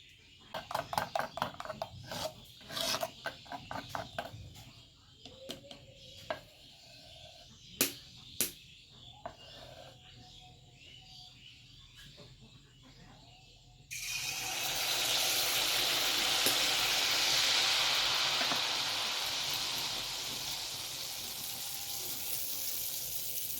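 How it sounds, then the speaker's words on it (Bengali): Milk pithe cakes drop into hot oil, first with scattered clicks and taps, then a loud, steady, broadband sizzle of deep frying that holds for the remaining stretch. "এখন আমি পিঠেগুলো ভেজে নেব।"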